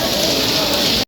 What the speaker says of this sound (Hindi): बारिश झमाझम हो रही है।